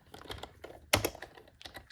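Keystrokes on a computer keyboard tapped in quick irregular bursts at close range, with one sharper, louder key press near the middle, while setting up a Windows 11 installation.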